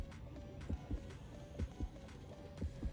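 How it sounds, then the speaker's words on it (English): Heartbeat in the horror video game Depth: a steady, faint double thump in paired lub-dub beats repeating about every second, over a low ambient hum, with no speech. "I hear a heartbeat sounding to the beat of the drum."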